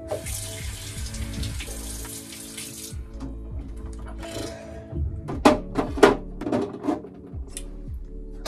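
Water runs steadily from a bathroom tap while someone brushes their teeth, a continuous splash that stops partway through, followed by scattered clinks and knocks around the sink.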